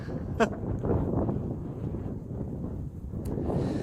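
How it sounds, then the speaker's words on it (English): Gusts of wind buffet the microphone in a low, rumbling roar, with a couple of sharp blasts breaking through. "it's got really windy up here."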